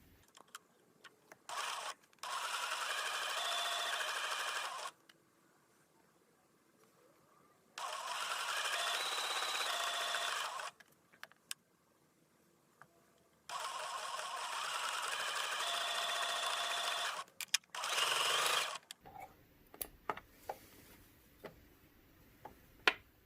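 Sewing machine stitching a seam across fabric pieces for a scrappy lattice square quilt block, running in several steady whirring bursts of a few seconds each with pauses and small clicks between, close and alone.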